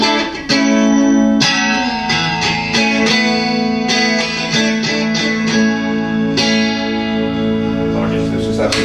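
Electric guitar with a clean tone, played through an effects rig with chorus and reverb, ringing chords and picked notes that sustain loudly throughout, close and upfront.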